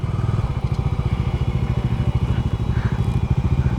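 A motorcycle engine pulses with a close, rapid, uneven putter while climbing an off-road hill track toward Parasnath Hill, loud and unbroken.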